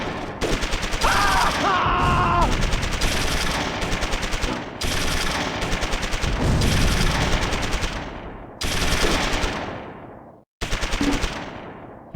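Sustained machine-gun and rifle fire rattles through a Stalingrad factory battle in the World War II strategy game Close Combat 3: The Russian Front, loud and dense bursts with brief gaps, a near-silent break near the end, then firing resumes.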